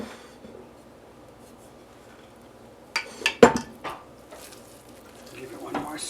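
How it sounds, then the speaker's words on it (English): A spoon clinks and scrapes against a bowl while stirring a lemon mixture, a brief cluster of close metallic taps midway through an otherwise quiet kitchen stretch. "Give it one more stir. Make sure I got all the lemon blended in there."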